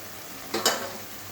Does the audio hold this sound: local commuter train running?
no